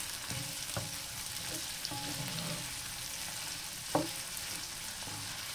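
A seafood stew of vegetables and red pepper slices cooks in a pot, with a steady sizzle and simmer running throughout and a few soft stirring knocks, one of them sharper near the end, and no voices.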